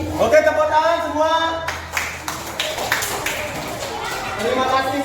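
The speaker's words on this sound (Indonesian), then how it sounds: "Oke, tepuk tangan semua." A classroom of pupils claps their hands together on the teacher's cue. Scattered, overlapping claps break out after a voice and carry on under faint chatter for several seconds.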